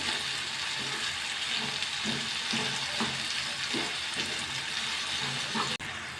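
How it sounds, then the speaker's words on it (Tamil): Tomatoes sautéing with salt in a pan for chutney, giving a continuous dense sizzle with rhythmic stirring knocks of the spoon every half second or so. "தக்காளி நல்லா வதக்கி வைப்போம்."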